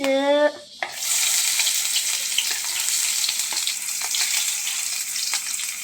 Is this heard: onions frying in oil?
yes